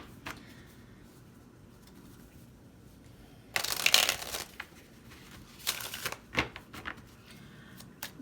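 A deck of cards is shuffled in a quiet room for a pick-a-card love reading: two short, crisp riffling bursts a couple of seconds apart, close and fairly soft, with faint clicks between.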